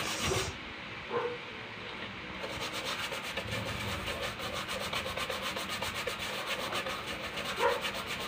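A rag or brush scrubs flux off an Aeroled P3.9 LED display board with acrylic thinner, making faint, continuous rubbing and scraping sounds nearby.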